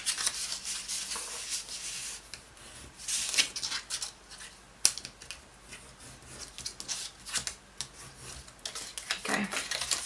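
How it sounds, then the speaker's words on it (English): A bone folder from an envelope punch board scores and creases paper for a mini treat box, producing close, scratchy rubbing strokes and papery rustles in irregular bursts, with occasional sharper taps. "So I'm using the bone folder out of the envelope punch board."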